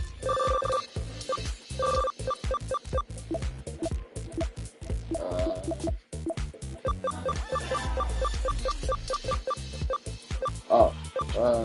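A black telephone rings in the video game Fallout, giving a continuous rapid bell ring with short repeated bursts, loud and alone throughout.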